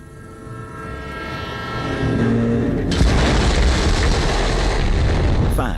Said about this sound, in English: Explosion echoed through the forest